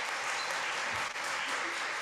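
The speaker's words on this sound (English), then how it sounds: "Another round of applause for our youth." Congregation at a coming-of-age church service applauds the youth, a dense, even wash of clapping from many people filling the whole moment.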